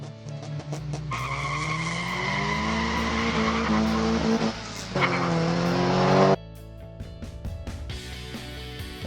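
A 1/64 scale Hot Wheels '69 Mustang Boss diecast car races down a track with a loud, continuous rolling whir that holds steady for several seconds, then cuts off abruptly and leaves quieter clicks.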